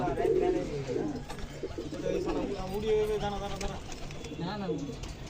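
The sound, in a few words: pigeons cooing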